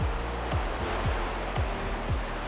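Ocean waves roll in on the sandy spit beach at Dawlish Warren, Devon, making a steady, close, broadband roar with surges about every half second and no voices.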